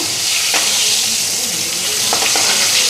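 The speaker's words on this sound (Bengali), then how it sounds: "মাছগুলি এক পিট ভাজা হয়ে গেল" Koi fish frying in hot oil in a wok, a loud continuous hiss with occasional spatula clinks and stirring taps near the pan.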